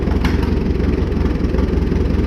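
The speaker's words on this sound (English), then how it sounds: "I shut the fuel off. We're just gonna wait for it to run the carburetor dry and shut itself off." Original 1938 Farmall F-20 tractor engine keeps idling after its fuel is shut off while the carburetor runs dry, a loud, close, steady low chugging with an even rhythmic pulse, on a cold day of about 35 degrees.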